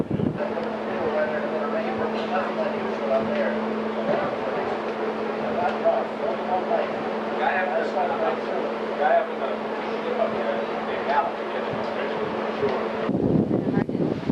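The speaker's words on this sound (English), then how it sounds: "hear the wind?" Wind buffeting a microphone on a cruise ship deck near the Panama Canal, a steady loud rushing roar with a low engine-like hum underneath, while people talk over it.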